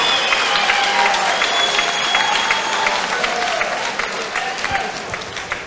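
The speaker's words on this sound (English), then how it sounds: "how about a huge round of applause for both of these warriors" Large crowd applauding and cheering for two boxers after a hard-fought bout, loud dense clapping with whoops throughout, tapering slightly toward the end.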